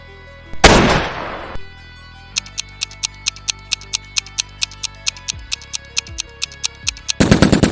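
A SCAR assault rifle firing in the game PUBG: a loud burst at the start, then a steady rapid string of sharp, evenly spaced single shots, with another dense burst at the end and no talk.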